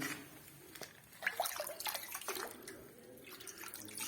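A hand scoops water in an underground stone cistern at Zerzevan Castle. The soft, faint splashes and drips come in a short cluster.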